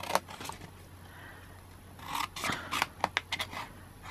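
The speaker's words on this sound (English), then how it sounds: "Need to cut away this one as well." Scissors snip through paper while a mini chocolate bar wrapper is trimmed, a series of quiet close crisp cuts and rustles that cluster into several quick snips toward the end.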